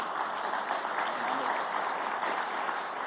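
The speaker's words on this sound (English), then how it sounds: "A round of applause for Amit as well" An audience applauds, a steady, even wash of clapping with no one speaking over it.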